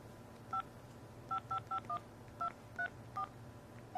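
Touch-tone keypad beeps from a Verizon phone as a phone number is entered: about eight short dual-tone beeps in an uneven run, clear and close over a low background hum, with no talking.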